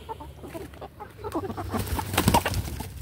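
Hens and a rooster clucking close by on a French backyard where the birds graze on nettles, with short overlapping calls and a few louder squawks building toward the end.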